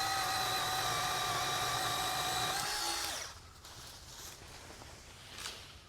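A small SEESII mini chainsaw whines loudly and steadily while cutting a tree branch, then cuts out, leaving a quiet outdoor background.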